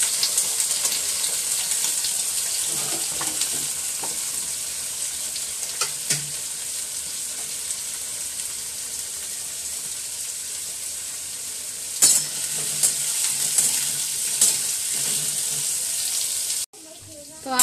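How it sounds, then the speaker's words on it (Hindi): Potatoes frying in a pan while being stirred, a steady dense sizzle running throughout with occasional scrapes and clinks of the spoon, ending with a brief sharp knock. "हमारा जो आलू है ये अच्छे से फ्राई हो गया है"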